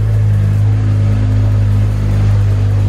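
A BMW F10 535i's engine idles and creeps along as the car drives into a garage, a steady low mid-pitched hum close by with no talking.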